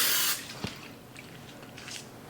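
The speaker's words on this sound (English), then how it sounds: "Cooking spray. You don't want this to stick to the grill." A short hiss of cooking spray sprayed onto raw shrimp before grilling, one brief burst up front followed by faint handling noises and small drips.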